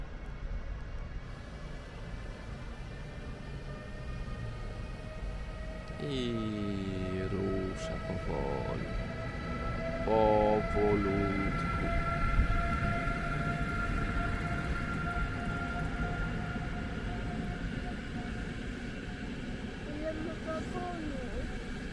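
A long train with many wagons pulls slowly out of Poprad station in Slovakia with a steady low rumble and rattle, joined by brief metallic wheel squeals partway through.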